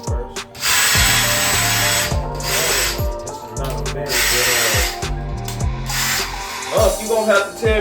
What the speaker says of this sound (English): Drill this hole.